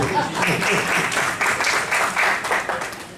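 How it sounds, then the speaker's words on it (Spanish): Audience applause fills a tribute ceremony for an honoree, a steady dense patter of many hands clapping at moderate volume throughout, with a voice faintly audible beneath it. "Un aplauso"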